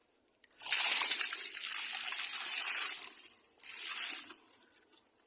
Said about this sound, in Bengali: এখন গাছটায় পানি দিয়ে দেবো